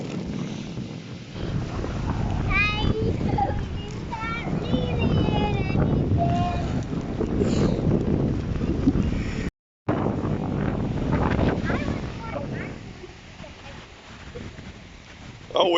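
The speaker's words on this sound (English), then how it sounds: "Sorry about the wind, you're not going to be able to hear anything." Strong wind buffets the microphone during a stormy walk on Spike Island by the sea, a constant low roar with gusts, while people talk over it.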